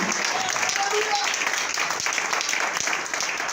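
Church congregation at a French-language service applauding and cheering, a dense continuous wash of clapping and crowd noise throughout, loud and close, with faint voices mixed in.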